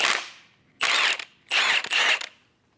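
Ratchet with a 13/16 deep socket backing studs out of a Ford F-150 3.5L EcoBoost engine block, heard as three quick, loud, close bursts of rapid ratcheting clicks separated by short pauses.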